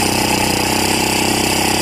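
A small gasoline engine fitted to a gas-powered electric guitar runs close by, a loud, continuous buzzing drone with a steady rapid pulse and no break for the whole stretch.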